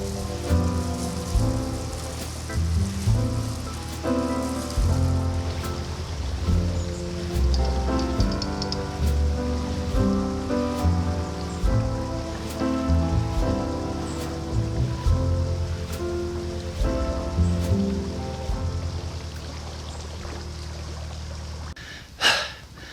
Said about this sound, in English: it's tipping it down with rain